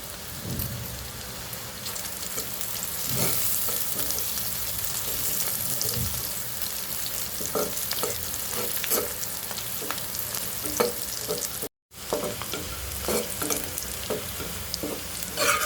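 Cumin seeds sizzle in hot oil for a taro-leaf dish, a steady close frying crackle with scattered stirring clicks and a brief dropout near the end, no voices.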